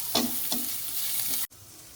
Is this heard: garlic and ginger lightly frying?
yes